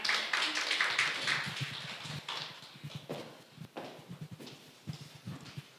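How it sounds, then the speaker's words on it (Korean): An audience applauds to welcome a speaker to the stage at a national poetry recitation contest. The applause is dense and fairly faint, strongest at the start and thinning out over several seconds as a voice begins under it. "큰 박수로 모시겠습니다"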